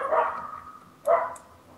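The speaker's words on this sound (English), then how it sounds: "The dogs are coming." Dogs bark in a tabletop role-playing game session, two separate bursts: a longer bark near the start and a sharper one about a second later, moderately loud over a low hum with no talk.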